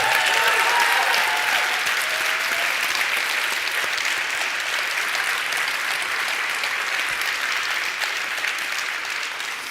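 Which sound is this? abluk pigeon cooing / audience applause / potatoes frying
audience applause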